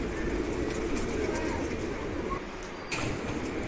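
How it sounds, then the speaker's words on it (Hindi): Pigeons coo in a pigeon loft holding border pigeons, a soft continuous murmur under dense background noise and a busy bustling setting. "ये बॉर्डर वाले कबूतर है दोस्तों"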